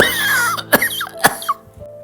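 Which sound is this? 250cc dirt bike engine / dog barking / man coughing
man coughing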